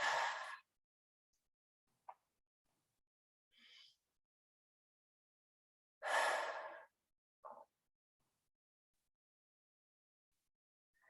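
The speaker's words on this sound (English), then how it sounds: "So a couple deep breaths." A person takes a couple of slow deep breaths, each exhalation drawn out longer than the inhalation, soft and close in a quiet space with gaps of silence between breaths.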